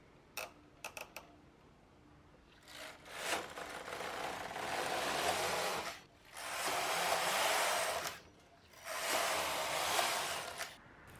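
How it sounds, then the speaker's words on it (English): A double bed knitting machine knits waste yarn in a 2-color jacquard wall hanging setup: a few sharp clicks, then three long rasping carriage passes, each rising and falling, separated by brief pauses, close and without voices. "This is waste yarn and it doesn't need to have a pretty hem, so just start knitting."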